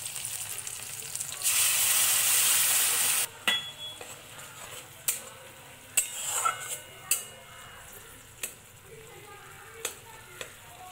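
Spice paste and chopped tomatoes fry in a pan for a fish curry, a loud burst of sizzling followed by softer frying under repeated scrapes and clinks of a spoon stirring against the pan.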